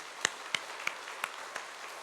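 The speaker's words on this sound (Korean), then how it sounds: "우리 하나님께 영광의 박수를 올려드리기 원합니다." A church congregation claps after a Sunday sermon. About five distinct, sharp hand claps come at slightly uneven intervals, faint and sparse, over a quiet room.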